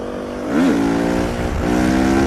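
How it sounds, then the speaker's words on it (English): A KTM motorcycle engine revs up sharply during a wheelie, a close, loud tonal drone that climbs and dips, then holds a steady pitch, with no talking. "Should I wheelie past him on his own bike?"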